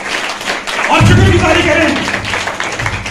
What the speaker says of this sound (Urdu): زوردار تالیاں لگائیں ایسی باتوں کے لیے